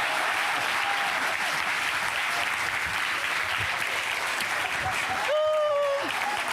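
A comedy show audience applauds Jamel Debbouze on stage, sustained loud clapping with a voice briefly heard over it near the end.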